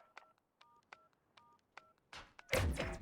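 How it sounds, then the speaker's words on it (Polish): Bomb planting in Call of Duty Modern Warfare: a string of short electronic keypad beeps, then a sudden loud mechanical thud and rushing noise. "Bomba podłożona. Zacząć odliczanie."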